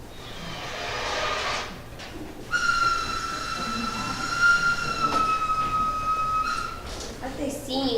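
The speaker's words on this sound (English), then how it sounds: "And the mill whistles blew one last time." Cotton mill whistles blowing one last time, a long sustained steady tone held for several seconds after a burst of noise, sounding at a distance in open air.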